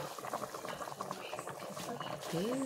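Salmon head soup with sweet potato leaves bubbles and pops steadily in a pot, a soft continuous boil with faint voices talking in the background.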